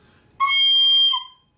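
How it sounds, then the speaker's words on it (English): A shrill, sustained high whistle-like squeal from an overblown recorder, steady for under a second, then cutting off. "If you blow too hard, it sounds like this."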